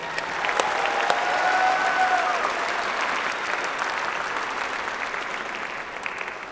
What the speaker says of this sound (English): Can we get another round of applause for Mr. Zatello?